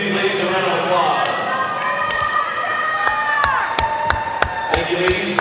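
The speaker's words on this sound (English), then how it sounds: "Let's give these ladies a round of applause." Crowd at an indoor swim meet cheers and shouts, with sharp scattered claps and echoing thumps over a busy, reverberant background. Voices carry throughout.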